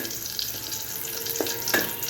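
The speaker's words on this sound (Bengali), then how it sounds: "এই যে শুকনো মরিচ এবং রসুন দিয়ে আমি শাকটা এখন বাগার দিব" Dried chillies and garlic crackle and sizzle in hot oil while Malabar spinach is tempered, a steady close frying hiss broken by a few sharp pops.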